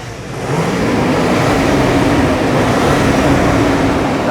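A 3.5-litre twin-turbo V6 under the hood of a Chinese Lexus-style car is held at high revs, producing a loud, close, steady roar that runs unbroken for several seconds with no talking.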